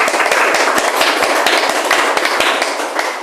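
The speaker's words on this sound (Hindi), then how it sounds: "बाकी अपने लिए आप लोग ताली बजाइए कि एक ईमानदारी का परिचय आप लोगों ने दिया है।" Live audience clapping at a yoga class, a steady dense patter of many hands that stays loud throughout and eases slightly toward the end, with no voices over it.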